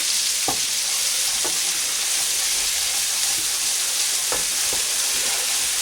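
Onion, garlic and ginger fry with curry spices in a pan, giving off a steady, close sizzle and hiss with a few faint clicks of stirring. Nobody speaks.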